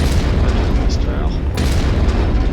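Long-range missiles launch in the mech combat video game MechWarrior 5, a loud, continuous rumbling roar of booming salvos mixed with someone talking over it.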